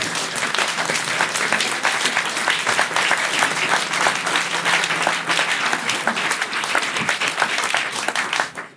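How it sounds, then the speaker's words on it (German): Dense, sustained applause from an audience in a hall, many hands clapping loudly and continuously before tapering off at the very end. "dass wir gleich am Anfang Applaus haben"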